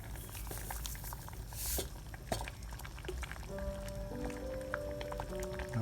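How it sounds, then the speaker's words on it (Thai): Thai beef and crispy pork rind curry with cassod leaves bubbling in a pot, a steady soft simmer with scattered small pops and patters, with a faint tonal hum coming in partway. "ปล่อยให้เดือดอีก"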